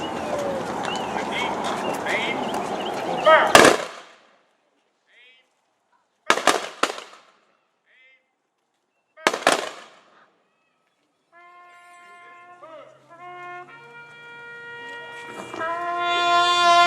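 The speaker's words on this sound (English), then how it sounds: "the Tejanos in action will fire a volley and salute" A rifle volley salute fired by an honor guard at a high school memorial ceremony: three sharp, loud cracks spaced a few seconds apart, each echoing briefly outdoors, with announcer speech before the shots and a bugle beginning afterward.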